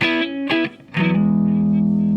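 An electric guitar plays through a Hughes & Kettner Black Spirit 200 floor amp in clean mode: a few short picked notes, then a sustained ringing chord, close and fairly loud.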